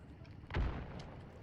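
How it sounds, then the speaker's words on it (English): A single shotgun blast in a video game sounds as a muffled boom, fairly faint and distant, with low rumbling tail and a soft voice murmuring around it. "A lot of shotguns."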